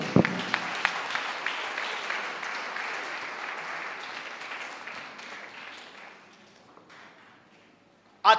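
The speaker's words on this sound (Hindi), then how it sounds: "जोर से ताली बजाएं।" A church audience applauds loudly for several seconds, a dense wash of clapping that slowly thins and fades, with a few sharper taps and faint voices near the end.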